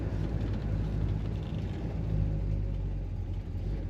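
A 1972 Chevrolet Nova Sports Coupe with an automatic transmission accelerates, its engine a steady low rumble heard from inside the car at a moderate, even level, with no talk.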